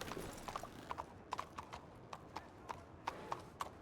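Horse hooves clip-clop in a roleplay video game, a close, even walking rhythm of sharp hollow knocks about three or four per second over a low background hum.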